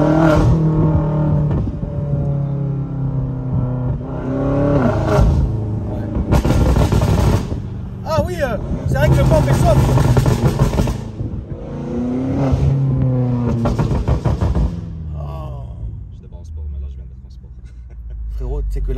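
A Stage 3 tuned car in sport mode revs hard and loud, its engine rising and falling in repeated bursts with sharp crackles and pops, while people talk over it in places.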